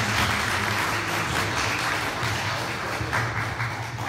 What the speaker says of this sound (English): Please give her a grand round of applause.